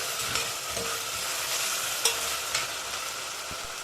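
Vegetables sautéing in a pan for a vermicelli soup, a constant close sizzle broken by scraping strokes and a few light clacks of the stirring utensil.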